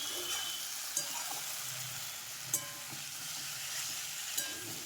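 Chickpeas fry in a pan with spices, a constant soft sizzle broken by a few sharp clinks of a spoon stirring against the pan.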